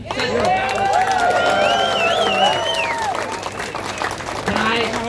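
Applause from a crowd of thousands at a Vietnamese anti-government protest rally, steady clapping mixed with cheering voices, loud and close for several seconds.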